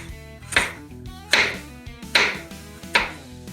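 Four knife strokes chopping half a green apple on a board for a cocktail, evenly spaced about a second apart, each a crisp close thud with a short ring, alone without talk.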